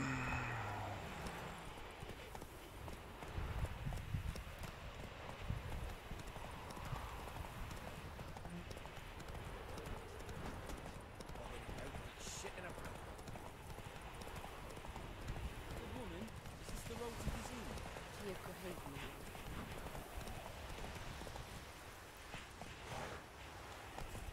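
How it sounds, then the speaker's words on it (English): Horse hooves galloping steadily in The Witcher 3 video game, a continuous rhythmic clip-clop running throughout under frequent talking and a busy game soundscape. "We'll go ahead and take a horse there."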